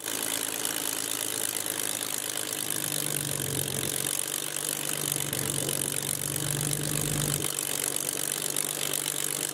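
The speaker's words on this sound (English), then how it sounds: "There we go, there's the sound of that Merlin engine." Rolls-Royce Merlin engine of a Spitfire MJ627 running steadily on the ground before taxiing, a continuous loud broadband roar with a low throbbing drone underneath, heard alone with no talk.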